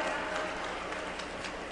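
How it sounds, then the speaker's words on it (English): Applause from a large audience at a TANA conference in 2019, a dense, steady wash of clapping that holds evenly throughout without any voice over it. "give them a big round of applause too"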